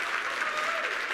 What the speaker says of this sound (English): as we are giving people rounds of applause